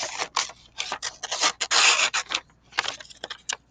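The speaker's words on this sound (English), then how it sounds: "the first thing I'm going to do is cut these out real quick" Scissors cutting out paper notes, a rapid series of close, dry snipping and rasping strokes in short bursts, with no talking.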